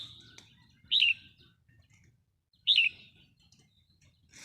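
Wild red-whiskered bulbul giving two short, bright calls about a second and a half apart, clear and fairly close over a faint, quiet background.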